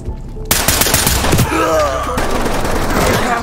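Rapid gunfire in the tactical shooter game Ready or Not: a sudden loud volley of sharp, closely spaced shots and bursts, with echoing reports continuing throughout.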